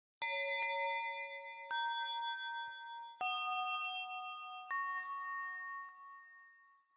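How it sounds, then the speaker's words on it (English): A chillwave synth chime like an anime school bell plays four clear, bell-like chords, each struck and left to ring out, evenly spaced about a second and a half apart, with nothing else heard. "This is kind of the chime sound they use when classes are over"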